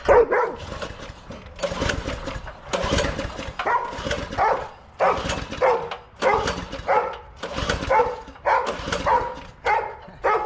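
A dog barks repeatedly out in a forest, loud and close, in a steady series of sharp barks about once a second, with a faint engine hum underneath.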